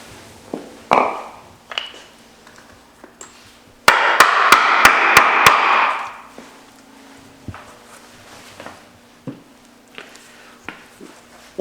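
A drive center is hammered into a wood bowl blank on a lathe, a quick burst of about six sharp, loud metallic strikes in a row, with scattered faint knocks and handling clatter before and after.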